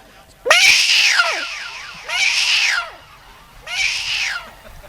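A performer's voice imitates cats, giving three loud, drawn-out yowling meows in a row, each rising and falling, close and alone with a short pause between calls.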